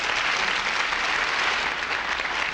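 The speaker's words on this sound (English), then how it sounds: "Give him a big round of applause" A studio audience on a 1973 television variety show applauds a man invited up onstage, producing a steady, dense roar of clapping that stays even and fairly loud throughout, with no voices.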